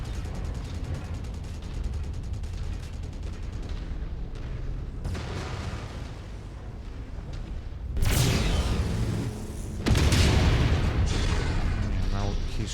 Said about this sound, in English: he's shooting those SRMs at me